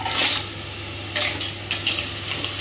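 Clams tipped into a pan of fried masala spices, giving a loud clattering rush of shells hitting metal followed by several sharper scraping and clinking stirs over a low steady sizzle.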